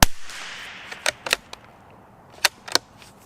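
Sharp, cracking shots from a Springfield Model 2020 rimfire target rifle, about five or six reports spaced unevenly over a few seconds, loud and close with quiet gaps between them.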